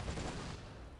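Starfall spell effect in the Might and Magic VI video game: a faint, dense rumble of rapid explosive impacts, like a volley of gunfire, heard alone for about a second.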